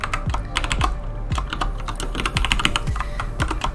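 Rapid clattering keystrokes on a computer keyboard while code is typed, close and crisp, with irregular bursts of clicks and a few heavier thumps of the space or enter key.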